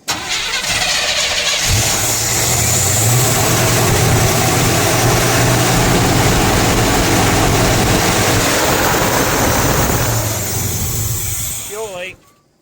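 A Chevrolet C10 truck engine with a newly installed carburetor starts and settles into a loud, steady rumbling idle up close for several seconds before cutting off, with voices talking briefly near the end.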